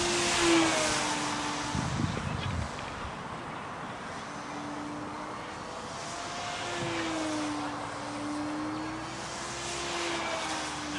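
A Parkzone Spitfire RC model airplane flies in calm conditions, its small electric motor whining at a steady pitch that rises and falls as it passes at a distance, with a brief louder rush near the start.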